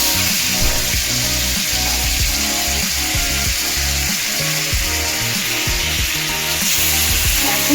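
Around 300 grams of chicken hits a large hot kadai (wok), giving a loud, continuous close-up sizzle of frying with no one talking.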